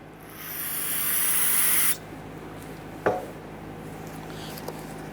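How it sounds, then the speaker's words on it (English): A can of solvent sprays in a loud, steady hiss for about two seconds into the slider pin holes of a front brake caliper on a 1994-2004 Ford Mustang, followed by a sharp knock and quiet handling noises. "I'm going to spray a little bit of solvent inside here."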